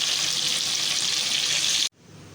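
Gola kababs deep frying in oil over a medium flame, a loud, steady crackling sizzle that cuts off abruptly near the end, leaving a much quieter hiss.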